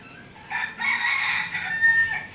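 A temple rooster crows loudly and close by, a drawn-out call with clucking from other chickens around it and no voices.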